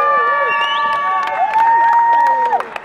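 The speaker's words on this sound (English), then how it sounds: "Let's have a round of applause for her." Crowd at a badger cull protest cheering with whistle-like calls and scattered clapping, loud and close, with bursts of claps toward the end.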